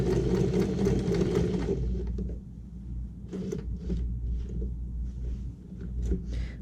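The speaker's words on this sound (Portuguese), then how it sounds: "De novo, vou costurar até o pesponto." A sewing machine stitching fabric for a zippered toiletry pouch, a loud, rapid whirring run that stops, then a few short bursts of stitching and handling noise up close.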